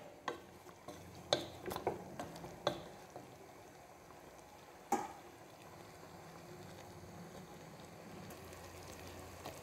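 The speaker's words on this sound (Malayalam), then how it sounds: "ഇനി നമുക്കിതൊന്ന് ഇളക്കിയതിന് ശേഷം നമുക്ക് അടച്ചു വെച്ചിട്ട് മാങ്ങ നന്നായിട്ടൊന്ന് വേവിച്ചെടുക്കാം" Ripe mango stirred in boiling jaggery syrup in a pot: a few sharp spoon clicks and scrapes against the pot come early, then a soft, steady bubbling simmer continues quietly on its own.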